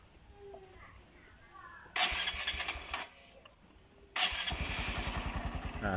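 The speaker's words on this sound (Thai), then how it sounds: "นี่นะครับเครื่องยนต์ติดแล้วนะครับ" A Honda MSX motorcycle engine cranks and catches twice, each start bursting into a loud, rapidly throbbing idle before cutting off, with quiet pauses between.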